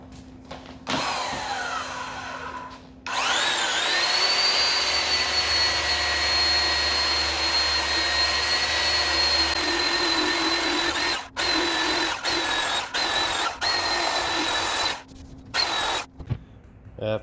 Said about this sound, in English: we'll take the belt sander and snug it up perfectly.